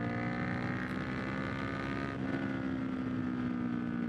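A 2018 Kawasaki Vulcan S motorcycle being ridden gives a steady, loud engine drone with a constant hum and wind rush.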